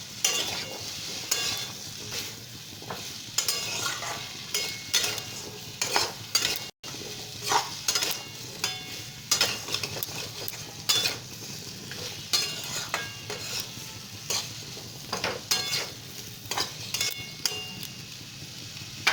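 Papaya pieces fry in spice paste for pepe posto while a spoon stirs and scrapes the pan in repeated strokes, with a gentle sizzle underneath, close and without speech.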